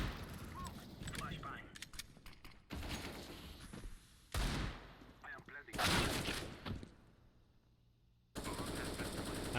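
Rapid bursts of gunfire from the video game CS:GO, including Desert Eagle shots, come in several loud choppy segments separated by short gaps, with quieter game ambience between them.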